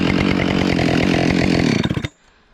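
Chainsaw cutting through a hard-leaning tree on a hillside, a loud, close, steady high-revving roar that holds for about two seconds before cutting off abruptly into near silence.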